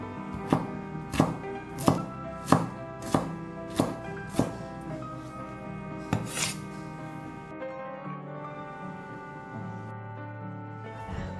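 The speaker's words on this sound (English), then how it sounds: "I'm just cutting off the tail end of the roots." Knife chopping coriander roots on a cutting board, about eight sharp evenly spaced thunks close up, then quieter scraping and a couple of softer cuts against a background of faint music.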